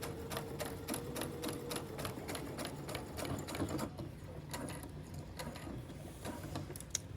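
A sewing machine runs steadily through a curved seam on a corset top, a fast even rattle of stitching with brief pauses and changes in pace.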